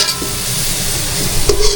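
Potatoes fry in hot oil in a pan, a loud, close, continuous sizzle with a spoon scraping and stirring through them, the clatter picking up near the end.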